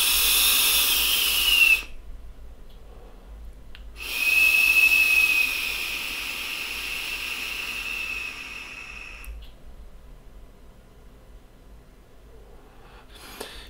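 Joyetech eGo ONE vaporizer with its two airflow openings wide open gives a steady airy hiss with a faint whistle during a long draw, stopping briefly before a second shorter pull resumes; no talking.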